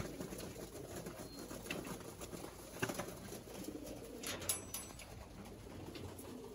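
Domestic pigeons in a home loft, being given water, coo softly and faintly in low, rolling coos that repeat, with a few light rustles and taps.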